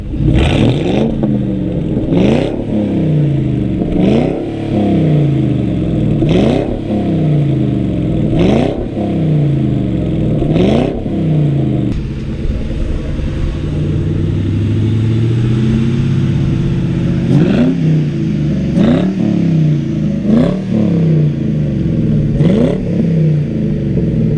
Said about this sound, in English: we're going to give the engine a couple of revs just to get rid of all that stuff